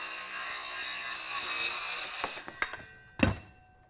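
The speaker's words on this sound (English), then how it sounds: "we're gonna use that as a guide to go ahead and cut all of our miter cuts" Hand saw cutting miter cuts in wood for a planter box, a steady rasping of strokes that fades out, followed by a few close knocks and a sharp thunk near the end.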